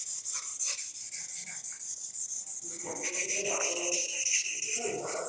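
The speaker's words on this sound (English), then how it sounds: "This part is always making a lot of noise. Let's grind it down." Chef knife being ground down on a sharpener, a continuous scraping rasp with repeated strokes, steady and close, with no talk.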